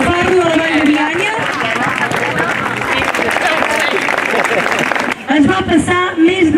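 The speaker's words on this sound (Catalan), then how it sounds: "un fort aplaudiment pel nostre primer padrí de la Fira del Farro" Audience applause at the Fira del Farro in la Vall de Bianya, a local fair honouring its godparent, with steady dense clapping and crowd noise filling most of the moment, mixed with voices and music, briefly dipping near the end.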